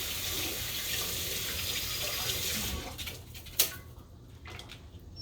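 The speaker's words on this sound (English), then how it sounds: "So I'm gonna wash them. Wash the green onions" Tap water runs steadily over green onions in a sink, then stops around the midpoint, leaving a quieter room with a single clatter and faint dripping or handling sounds.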